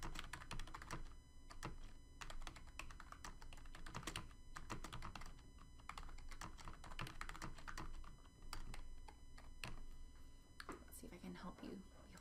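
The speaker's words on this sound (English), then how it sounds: "so let's see if I can type this out for you." Computer keyboard typing during a math lecture, a steady stream of quick, close clicks and key thunks with irregular rhythm, faint and continuous throughout.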